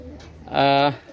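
A pair of male Pakistani Rampuri pigeons gives a single short, resonant coo, close and clear, set against quiet room background.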